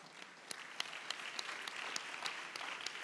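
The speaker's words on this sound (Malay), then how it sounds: "kita bagi tepukan" Audience applause at a Malaysian Ministry of Education launch ceremony for a healthy-living, anti-smoking and anti-vape campaign: steady clapping from a crowd, moderately loud and continuous for about three seconds, with no talk over it.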